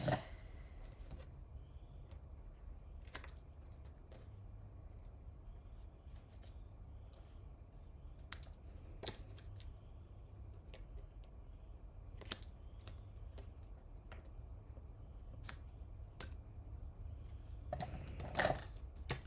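Scissors trim paper ends in a quiet crafting setting, giving a series of sharp, faint snips spaced irregularly over a low background hush, with no talking.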